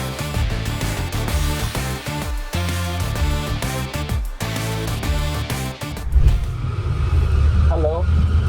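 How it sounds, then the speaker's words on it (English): A truck pulls up beside a stopped car, its low engine rumble swelling in the last few seconds after people talk over it earlier. "Truck is coming."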